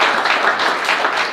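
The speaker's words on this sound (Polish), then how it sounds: "brawa dla pana Leszka Sykulskiego." Brief burst of audience applause at an expert conference on the war in Ukraine, dense and fairly loud clapping that fills the short moment without any voices.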